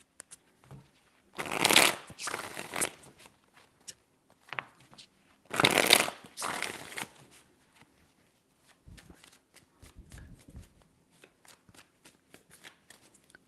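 Tarot cards are shuffled in two loud riffling bursts several seconds apart, with softer taps and handling in between and a quiet stretch of light card sounds toward the end.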